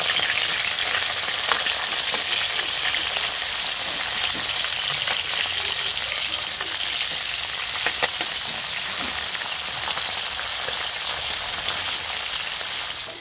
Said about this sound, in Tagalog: natapos ko nang lutuin yung ating pritong isda